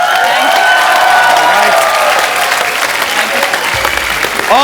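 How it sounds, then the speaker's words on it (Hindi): Loud, dense audience applause fills a comedy show hall, sustained clapping throughout with some crowd noise and cheering mixed in. "एक बार जोरदार तालियां हो जाएं, जोरदार।"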